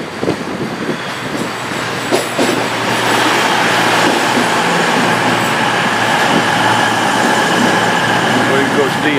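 A train pulls into platform 8 at a British station, its rumble swelling into a loud, steady roar of wheels and engine, while a voice talks near the start.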